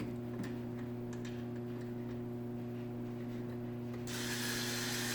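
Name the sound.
battery powered screwdriver driving in cabinet knob screws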